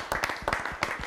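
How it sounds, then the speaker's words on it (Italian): An audience claps for Diego at an Italian fan event, a short burst of scattered, uneven handclaps from a small crowd, close and moderately loud. "Un applauso per Diego."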